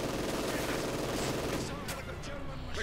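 Dense, continuous automatic fire of an MG42 machine gun in Company of Heroes 2, a steady rattling burst filling the whole moment at loud level amid the game's battle noise, with some voice mixed in.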